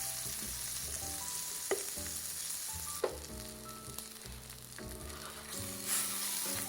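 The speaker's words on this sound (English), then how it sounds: "So this is already toasted on one side, and we are toasting it on the other side" Keto grilled cheese sandwich toasting in a buttered pan, a steady close sizzle with occasional scraping and tapping from a utensil, no voices.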